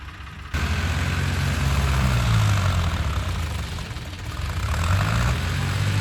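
A tractor engine running hard with its trolley stuck in the field, a loud continuous low rumble with rising and falling revs, heard close and without talking.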